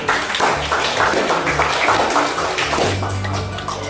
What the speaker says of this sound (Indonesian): Kita kasih tepuk tangan untuk kelompok 6.